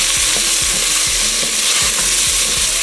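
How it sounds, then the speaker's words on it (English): Beef sears in a hot pan with a loud, steady, close sizzle and crackling spatter throughout, plus a few soft scraping stirs, and no voices. "Searing that meat is gonna make your house smoky"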